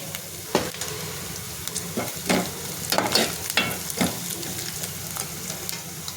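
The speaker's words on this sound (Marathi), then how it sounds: "छोटा कांदा घेतलेला आहे तो सुद्धा मी याच्यात छान परतून घेते" A small onion sautéing with turmeric in a pan crackles with a low, continuous sizzle, punctuated by several sharp spatula scrapes and clinks as it is stirred.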